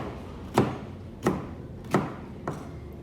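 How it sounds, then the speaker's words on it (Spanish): A knife chops fresh chiles for a homemade salsa on a cutting board, giving four separate hollow thuds about two-thirds of a second apart against a quiet background. "Lo estamos picando."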